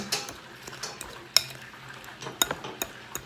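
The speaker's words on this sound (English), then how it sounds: "we're gonna give that a nice little stir" Turkey chili stirred in a pot: a handful of sharp utensil clinks and scrapes against the pot sound at uneven intervals over a soft background, close and clear, with no one speaking.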